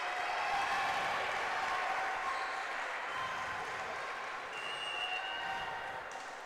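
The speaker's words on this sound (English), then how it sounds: "Sycamore student section kind of trying to cheer up this Sycamore team" A student section cheers at a high school volleyball match at set point in a gym, a steady, fairly distant crowd roar without distinct voices.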